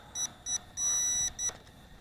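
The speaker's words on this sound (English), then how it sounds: "it beeps when it's level" A gimbal camera on an LH X25SWF FPV drone gives a series of high electronic beeps, three short ones and one longer tone, clear and close.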